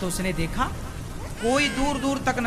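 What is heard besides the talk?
None of the usual background noises is heard.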